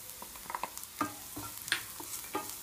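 Turmeric, salt and red chili powder being stirred in a pan with a spoon, giving soft scattered scrapes and light taps over a faint sizzle, quiet and close with no talking.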